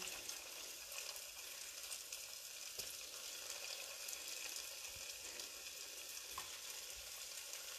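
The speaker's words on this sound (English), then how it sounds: "Look, this is frying faster, you can see." Steady crackling sizzle of oil frying churro bites, continuous and fairly close, with a few faint clinks and no voices.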